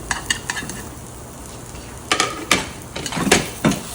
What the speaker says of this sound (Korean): 불 살짝 껐다가 팬 식은 다음에 볶아주시면 돼요